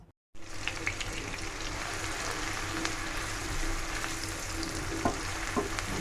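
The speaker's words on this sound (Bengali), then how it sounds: "এই তেলে পেঁয়াজের বেরেস্তা ভাজবো আর মাংস রান্না করব।" Chopped onions for beef biryani fry in soybean oil, a continuous dense sizzle that starts abruptly after a moment of silence, with occasional stirring clicks and no voices.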